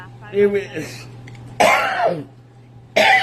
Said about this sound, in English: Sorry, she's coughing.